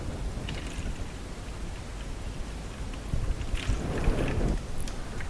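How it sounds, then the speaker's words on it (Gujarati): Cold water poured over a closed bottle, a steady rushing splash that swells midway and runs on to the end against a constant background hiss. "હવે તેની ઉપર ઠંડુ પાણી નાખીએ તો શું થાય છે તે આપણે જોઈએ"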